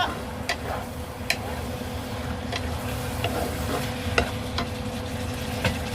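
Chicken and cabbage stirred in a hot pan after soy sauce goes in, with a continuous low sizzle under scattered light ticks and taps of a utensil against the pan, no voices.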